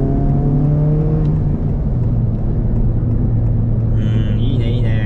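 Honda Civic Type R with VTEC turbo engine accelerating, a loud steady in-cabin engine drone with rising tones early on, continuous throughout, with a brief higher sound near the end.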